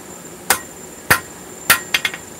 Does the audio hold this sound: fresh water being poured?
no